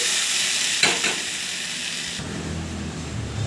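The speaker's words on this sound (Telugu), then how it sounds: "ఇప్పుడు మెదిపి పెట్టుకున్న సొరకాయి ఇందులో యాడ్ చేసుకోవాలి" Mashed bottle gourd tipped into well-fried onions in a hot pan gives a steady close sizzle with a brief stirring scrape near the start, then the frying sound deepens and continues alone.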